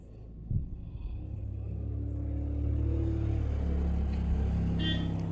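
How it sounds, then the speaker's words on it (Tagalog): Steady low traffic rumble from vehicles passing on a road outside, a continuous engine drone that swells a little in the middle and stays in the background, with no talking. "ang ingay ng mga sasakyan sa labas"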